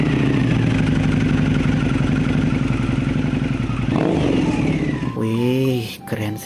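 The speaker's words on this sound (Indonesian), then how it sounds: "Wow, ini motor Harley." A toy Harley motorcycle gives off a loud, sustained engine drone that cuts off after about five seconds, followed by a short stretch of talk.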